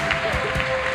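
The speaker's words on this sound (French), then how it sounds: "Sous vos applaudissements s'il vous plaît." Audience applause at a young-entrepreneur award ceremony, a brief burst of dense, steady clapping from a crowd.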